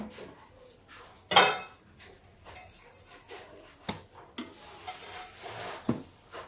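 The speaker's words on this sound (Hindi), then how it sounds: "पहले मैं फ्राई पैन को गैस पे चढ़ा देती हूँ" A frying pan is set onto a gas stove with a sharp metallic clank, followed by several lighter knocks and clatters of cookware close by in a quiet kitchen.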